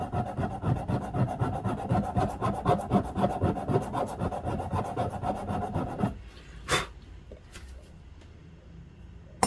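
Hand file rasping on a leather watch band in rhythmic push strokes, close and steady for about six seconds, then a few lighter scrapes and clicks as the filing stops.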